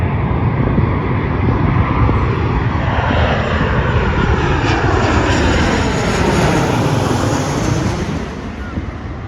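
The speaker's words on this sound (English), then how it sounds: "So this is the Virgin Airlines plane that's coming now." Virgin Airlines passenger jet coming in to land at an airport, a loud, continuous engine roar with buffeting wind noise that slowly shifts in pitch as it passes, then eases slightly near the end.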